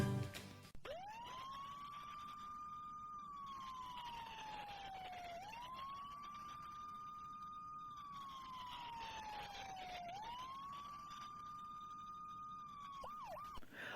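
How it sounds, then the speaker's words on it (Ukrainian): A fire engine siren wails in long rising and falling sweeps, repeating steadily over distant road noise, with no talking. "Ось такий звук видає сирена пожежної машини."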